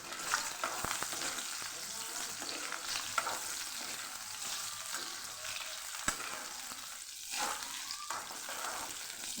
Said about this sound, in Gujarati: બહુ એકદમ નથી પકાવવાની આપણે ડુંગળીને, થોડી સાતળવાની છે